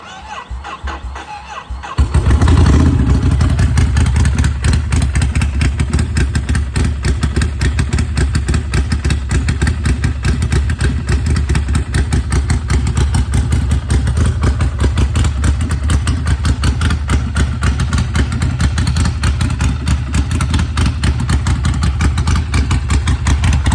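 A Ducati Scrambler motorcycle engine catches after a quiet moment and settles into a steady, loud idle close by, running continuously with a dense rumble.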